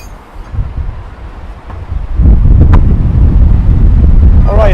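Strong wind buffets the microphone on an upper floor of a devastated abandoned mansion, a low rumbling roar that swells and grows louder partway through and stays heavy to the end.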